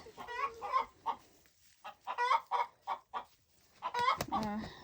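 Backyard chickens scratching around outdoors in winter cluck in a steady run of short, close, repeated calls, with brief pauses between groups of clucks.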